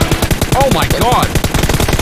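Rapid automatic gunfire in the battle royale game PUBG during a squad fight, with loud, dense, evenly spaced shots hammering continuously throughout and a brief tonal game effect sweeping underneath.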